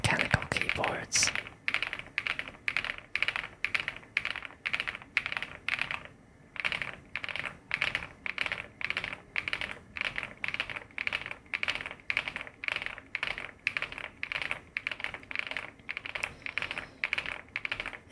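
Steady typing on an Epomaker Galaxy100 mechanical keyboard, a close, continuous run of thocky keystrokes with a brief pause partway through.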